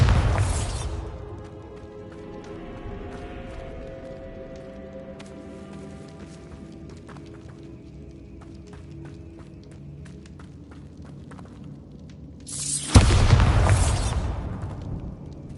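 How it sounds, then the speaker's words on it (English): A Bombarda spell explodes in Hogwarts Legacy: a loud blast at the start decays into quieter ambience, then a second heavy boom arrives near the end. "Bombarda."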